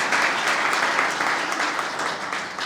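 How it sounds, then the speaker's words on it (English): A conference audience at the MEX Conference 2025 kickoff gives a round of applause, a full, even burst of many people clapping that stays loud and steady throughout without any talk. "Please, a round of applause for"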